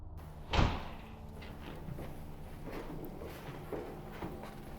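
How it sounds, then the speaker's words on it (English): A door shuts once with a sharp, fairly close thud early on during a ghost-hunting investigation, followed by quiet room noise with faint shuffling and small knocks. "Door shut."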